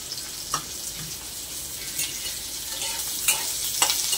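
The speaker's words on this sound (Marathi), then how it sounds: "तेल थोडंसं गरम झालं की त्याच्यामध्ये आता घालूयात आपण कांदा।" Onion sizzles in hot oil for a spicy Konkani egg curry, a constant close hiss broken by a few light scrapes and taps of a spoon stirring the pan.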